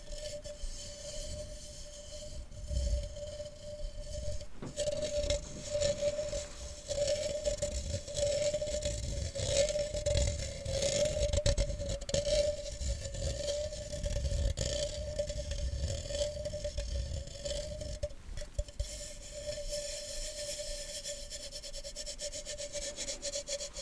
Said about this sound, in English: This one has a wire mesh top, and the wire mesh top makes an interesting sound.